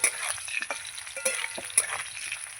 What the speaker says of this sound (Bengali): এই যে আমার আলুটা ভাজা হয়ে গেছে